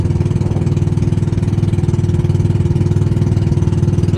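A motorcycle engine runs steadily at close range, its low, even putter holding a constant idle-like rhythm throughout with no voices over it.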